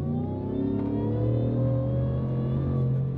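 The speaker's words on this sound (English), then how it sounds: "would you listen to that sweet, sweet, heavenly 3-liter Whipple supercharger?" A crew cab Ford F-150 with a 3-liter Whipple supercharger under hard acceleration, a loud, close, steady engine roar with rising harmonic tones and supercharger whine, no talk.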